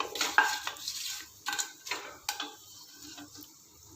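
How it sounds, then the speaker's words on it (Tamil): A spoon clanks and scrapes against a metal pot while whole spices for vegetable pulao are stirred, with repeated strokes over a soft sizzle. "இப்போ இதை நல்லா கலந்து விட்டுடலாம்"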